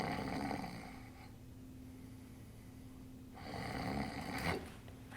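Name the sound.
performer imitating snoring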